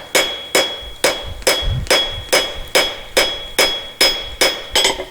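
A straight peen hammer strikes hot metal in a steady rhythm while forging a Christmas ornament, about ten ringing blows, each sharp and close, with no talking.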